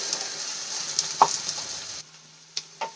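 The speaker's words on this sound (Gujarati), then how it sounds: "તો બે મિનિટ માટે આપણે એને સાંતળી લઈશું" Chopped vegetables sauté in a pan for a Maggi noodle snack, giving a steady close sizzle with a few scraping stirs, then the sizzle drops away and two short clatters follow.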